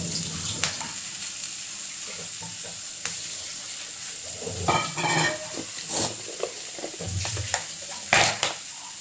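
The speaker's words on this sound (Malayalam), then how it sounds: "അടുത്തത് നമുക്കിനി ഉള്ളി വറുക്കാനിട്ട് കൊടുക്കാം കേട്ടോ." Steady sizzling of onions frying in a pan, with occasional stirring scrapes and clinks, close and continuous with no talking.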